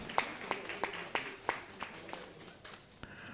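A small, sparse round of applause after a climate tech pitch, heard as a handful of separate claps spaced across a few seconds, fairly faint and thin rather than a full crowd ovation.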